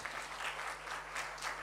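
Faint, distant applause from a seminar audience clapping for a participant named Lulus, a soft, even patter with slight swells, over a low electrical hum.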